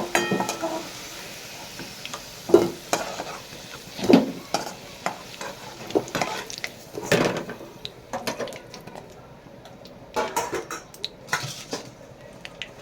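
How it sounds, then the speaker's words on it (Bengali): Fried potatoes are stirred and lifted from a pan, giving scattered metal spoon scrapes and clinks against the pan over a soft frying hiss, with irregular louder knocks spaced a second or two apart. "আলুগুলো ভাজা হয়ে গেছে লাল লাল করে আমি আলুগুলো তুলে নেবো"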